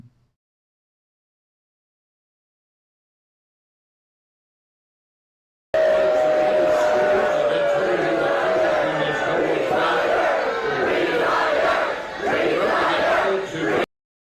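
A large, loud crowd at a political speech by McConnell roars and shouts continuously, drowning the speaker, after several seconds of silence; the noise cuts off abruptly.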